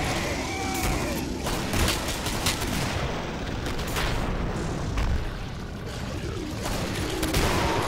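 Grenade explosions and gunfire in a competitive video game match, a dense and continuous barrage of bursts and booms with repeated sharp blasts and commentators talking over it.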